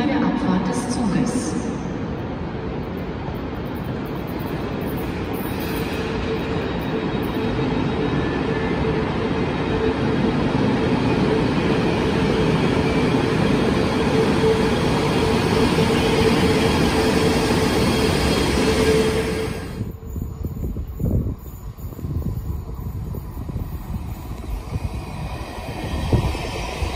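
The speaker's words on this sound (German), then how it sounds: "Vorsicht an den Türen und bei der Abfahrt des Zuges." A train departs a station platform, a steady broad rumble of wheels and carriages rolling for about twenty seconds before the noise drops away, leaving quieter station ambience with faint scattered sounds.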